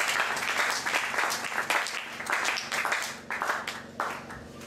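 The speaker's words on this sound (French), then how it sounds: "Applaudissez pour lui" A church congregation claps and applauds, a dense, steady wash of hand claps at moderate distance that swells and dips over several seconds, with no clear voices on top.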